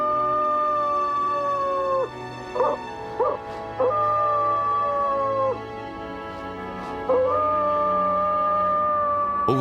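Coyotes in Yellowstone howl in long, wavering, sliding calls, interrupted by short yips and barks, close and loud, several voices overlapping over a low steady background hum.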